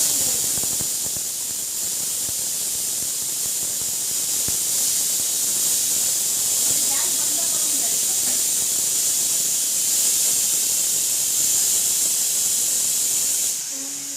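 A pressure cooker releasing steam after two whistles while cooking popti, a loud continuous close hiss of escaping steam that holds steady throughout, with a few faint clicks and no talking.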